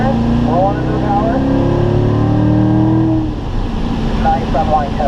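Corvette accelerating out of a turn at a Spring Mountain track driving school, engine note climbing strongly for three seconds then easing off, loud and near, with someone talking over it.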